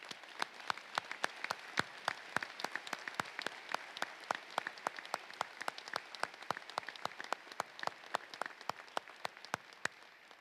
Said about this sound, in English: Y'all give them a round of applause.